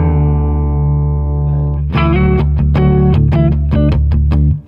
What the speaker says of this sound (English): Where you have like a melody that is being played with octaves.